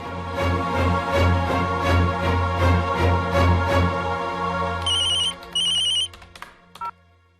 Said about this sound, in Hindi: फोन करके देखती हूँ।